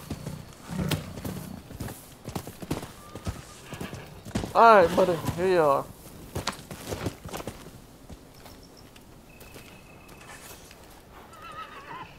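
A horse in the video game Rise of the Ronin gives a loud whinny in the middle, with clip-clop hooves and scattered footsteps around it, and someone speaks briefly near the start.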